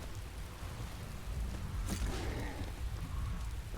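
Steady rain hisses across the scene in the video game Skyrim, a soft even wash with a faint low rumble and a brief brighter burst near the middle, no voices.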